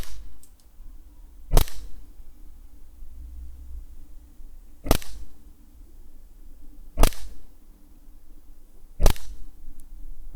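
An Umarex Glock 17 BB pistol fires four sharp, separate shots at a target, spaced a few seconds apart over low background noise.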